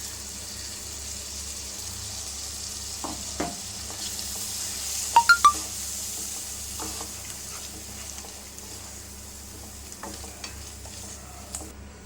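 Ground masala paste sautés in a pan over a low flame for a Vellore-style rice and lentil dish. A steady, soft sizzle runs throughout, with occasional spoon scrapes and a brief cluster of metallic clinks near the middle.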